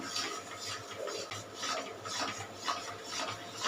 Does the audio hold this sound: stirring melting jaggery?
yes